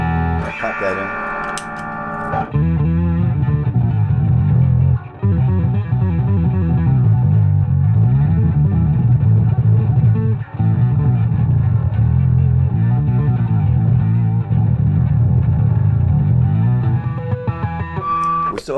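Electric bass played through an EBS Billy Sheehan signature overdrive pedal with an octave-down Octabass effect, giving a loud, distorted, growling low tone with sustained notes and a brief cleaner passage at the start.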